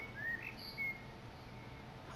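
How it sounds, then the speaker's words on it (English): A wild bird calls outdoors with a couple of short, thin whistled chirps. They are faint and distant over a quiet background hiss. "There's a bird out there"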